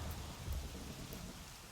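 Steady, faint rain patters in a Minecraft survival world during a dark, windy storm over dense forest, with a soft low rumble underneath and no voices.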